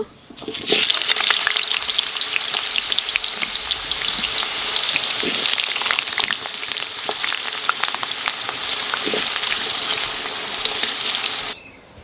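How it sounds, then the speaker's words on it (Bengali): Potatoes fry in a pan in a home kitchen, a loud, steady, close sizzle lasting about eleven seconds with small crackles and stirring clicks, no voices. "আলু একটু ভালো করে ভাজিয়ে নেব"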